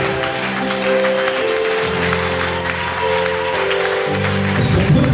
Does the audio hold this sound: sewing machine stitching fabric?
no